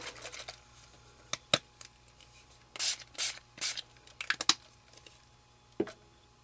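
Tattered Angels Glimmer Mist in Dijon is sprayed from a small pump bottle in several quick, hissing bursts: three clustered close together, with faint rubbing and tapping of papercraft handling around them.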